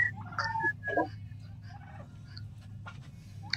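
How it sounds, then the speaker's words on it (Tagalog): A large domestic turkey gobbles on a range farm in the Philippines during deworming, with several short, close, raspy bursts in the first half over a steady low hum, then quieter bird calls. "Isa sa pinakamalaking pabo ko ngayon dito sa aking pabuhan, itong si Blackbird."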